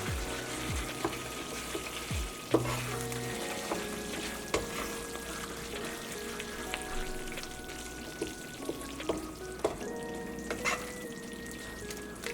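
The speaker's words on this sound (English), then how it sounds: "the fried minced beef" Minced beef fries in a pan with a soft, steady sizzle broken by scattered clinks and scraping stirs, fairly quiet and close, with no talking.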